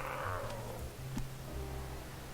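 Cat meow from the Kitty Cat card in MTG Arena, a short drawn-out meow near the start over a steady game music bed, brief and fairly quiet, followed by soft interface tones.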